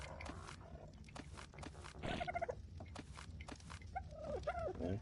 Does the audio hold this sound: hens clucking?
yes